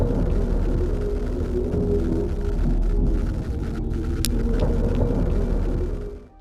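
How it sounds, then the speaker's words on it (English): A steady low droning rumble with dense murky texture, from a Mass Effect game audio file, holds throughout, then fades out at the very end. "listen to the droning audio on the original relay file"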